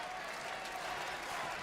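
A massive wrestling arena crowd at the Nutter Center in Dayton, Ohio applauds, making a steady, distant wash of clapping and crowd noise that does not let up.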